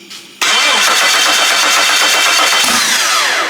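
A Jeep with a 5.0 stroker engine cranks briefly and then fires up, settling into a loud, close, steady idle with a busy mechanical clatter.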